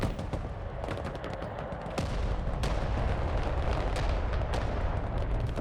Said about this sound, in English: Right, we're going to get some artillery.